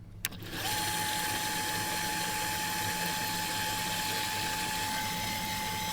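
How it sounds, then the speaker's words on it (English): An electric drill twisting coil wire into a Clapton coil spins up after a brief click and then runs at a constant, high-pitched whir with a steady mechanical hum for several seconds. "this part we're going to put inside the drill again, and then we are going to clapton it"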